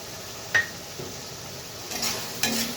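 A spoon clinks and scrapes in a pan as spiced masala with tomato paste fries for katla fish curry, giving a few sharp stirring knocks over a soft sizzle.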